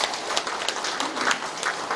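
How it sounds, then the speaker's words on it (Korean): Applause from an audience at a rural farming education session in Icheon, a dense steady wash of many hands clapping for the full two seconds with no voices over it. "그분들이 더 노력해달라고 그렇게 힘찬 박수 한번 보내주십시오."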